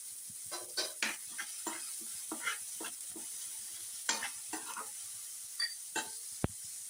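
Onions being sautéed for aloo paratha, a spoon scraping and stirring them through a pan in repeated strokes over a soft sizzle, with one sharp metallic tap near the end.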